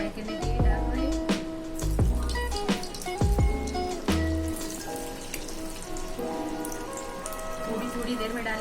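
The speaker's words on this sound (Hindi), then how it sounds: "हम इसमें फ्राई करने के लिए डाल रहे हैं।" Veg Manchurian balls dropped into hot oil on a medium-low gas flame, each splash followed by bubbling sizzle, a few distinct drops early then a steady crackling fry.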